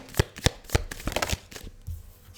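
Tarot cards shuffled by hand in a quiet room, a quick run of crisp riffling slaps and flicks, close and fairly loud, fading into softer handling.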